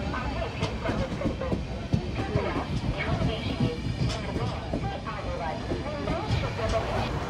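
A Konkan Railway train pulls out of Kudal station on a rainy day, its steady rumble and rattle continuous and close from inside the carriage, with people talking over it.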